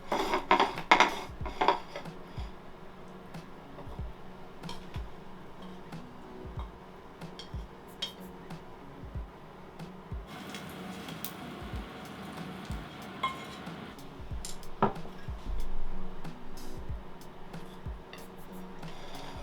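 Salmon and nanohana pasta being plated onto a dish, with close, quiet clinks and scrapes of utensils against crockery, including a cluster of clatters at the start and scattered taps after.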